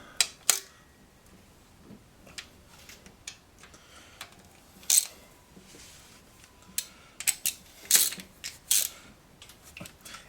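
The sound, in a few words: ratchet tightening intake manifold bolts, Ford Ranch Wagon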